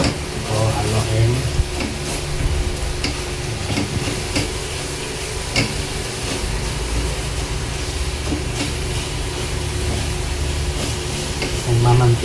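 Pork adobo is stirred as it fries in oil, with a constant loud sizzle and intermittent scraping strokes of the spoon against the pan heard up close.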